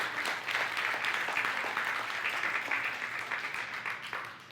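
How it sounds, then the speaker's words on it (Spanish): A church congregation applauding during a worship service, a steady, fairly faint wash of many hands clapping that continues evenly and tapers slightly at the end. "Dale un aplauso, Señor."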